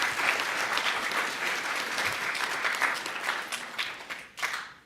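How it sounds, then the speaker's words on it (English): Dense, sustained applause from an audience honoring the Kid Governor nominees at an inauguration ceremony, loud and steady for several seconds before tapering off near the end. "Let's have another round of applause for the nominees and all the people who participated."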